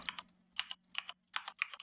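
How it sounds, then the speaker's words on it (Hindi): Keys clack on a computer keyboard in short bursts of quick taps separated by pauses, close and crisp against a quiet background. "इस तरह से हम लोग टाइप कर देंगे एक्सेल शॉर्टकट।"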